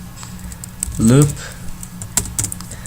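Keys clacking on a computer keyboard while Python Tkinter code is typed, a run of light, irregular taps with a short stretch of talk in the middle.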